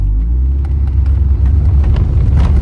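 A Ford Escort RS 2000 accelerating along a smooth road, its engine a loud, close, continuous low rumble building under load, with light tyre and road noise and no talking.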